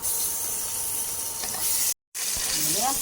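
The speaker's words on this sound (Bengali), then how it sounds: "ইলিশ মাছের তেল দিয়ে ইলিশ মাছগুলো মা ভাজা শুরু করে দিয়েছে" Hilsa fish pieces fry in hot oil in a kadai, a loud, continuous close-up sizzle with one brief break and a few light scrapes near the end.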